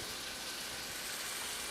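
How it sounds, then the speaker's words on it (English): Steady, dense sizzling of food frying in a hot pan, a continuous crackling hiss with no voices. "We want to hear the sizzle."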